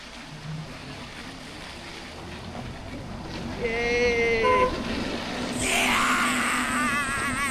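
An open Gypsy jeep rides through Pachmarhi, with a steady rush of wind and engine rumble throughout. Voices call out and whistle-like tones rise over the noise toward the end.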